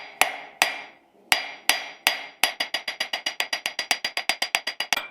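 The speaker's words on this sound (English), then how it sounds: "I started flattening the other end of the rod." Hammer cold forging the end of a metal rod, sharp ringing metallic strikes: a few spaced blows, then a fast steady run of about twenty rapid hits, close and clear with no talking.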